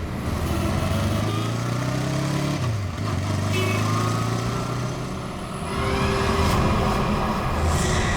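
A motorcycle engine drones steadily as the bike rides past, its pitch dipping partway through, loud and continuous without talk, on a road near Khandala on the way to Pune.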